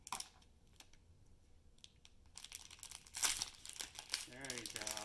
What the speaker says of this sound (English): Okay, now rip it. It's good, rip it.